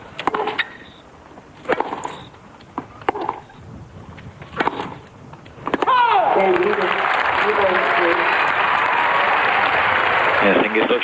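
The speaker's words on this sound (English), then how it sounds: "Hingis looks round at her mother, who applauds enthusiastically" A tennis crowd at a 1999 women's final in a stadium bursts into sustained applause after a service break, following several seconds of commentary with scattered sounds; the clapping is loud, dense and continuous to the end.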